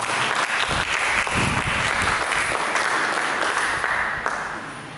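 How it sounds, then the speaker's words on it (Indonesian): Church congregation applause during a sermon, a steady wash of many hands clapping together in a large room. It holds at full strength throughout and fades slightly toward the end, with no voices on top. "Mari kita berikan tepuk tangan bagi Tuhan"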